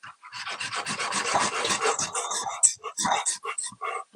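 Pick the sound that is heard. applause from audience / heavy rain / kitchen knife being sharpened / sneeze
kitchen knife being sharpened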